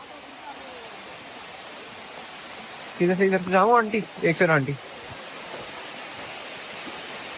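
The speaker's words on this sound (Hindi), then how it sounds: "ये देखो भाई, हम चढ़ रहे हैं वाटरफॉल पे" A waterfall in Krabi, Thailand, pours as a constant broad rushing hiss, close and steady throughout, while a person speaks briefly in the middle.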